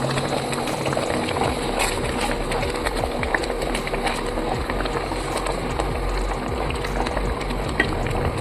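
Water coming to a boil in a pot for rava upma, about two cups of water per cup of semolina, gives a steady, dense bubbling and hissing wash with no talk over it.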